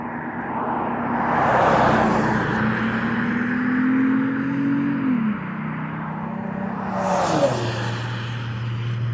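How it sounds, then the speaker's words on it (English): A police car, a sedan rather than an SUV, drives past with a steady engine hum that rises toward a loud pass and then drops in pitch as it moves away. A second vehicle swells in near the end. No one speaks. "Oh, that's a cop car, but it's a car."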